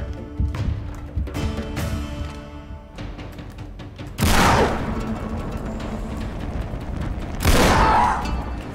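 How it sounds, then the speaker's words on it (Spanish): Sniper rifle shots in the game Uncharted 3, with two loud, sharp cracks several seconds apart, each ringing out with a short echoing tail over a busy bed of lighter thuds and gunfire. "Dos tiros de francotirador para tumbarlos"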